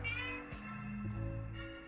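A cat meows in a room with a steady background hum and some low tones, the meow rising briefly out of the continuous noise.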